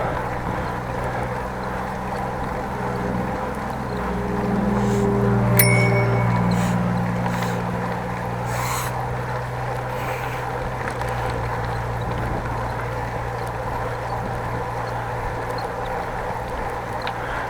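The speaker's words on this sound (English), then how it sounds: "Just rang the bell because otherwise I will have a man with a broom in front of my bike." A bicycle bell rings once, briefly and clearly, during a ride on the outskirts of Appingedam in the Netherlands, over steady wind and rolling road noise.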